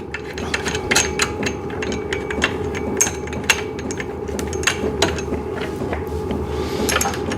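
Bolts being tightened on a VEVOR cycling desk, a bike trainer desk with a triangle support frame: a close run of repeated metallic ratcheting clicks and light knocks over a low steady hum, with no voices.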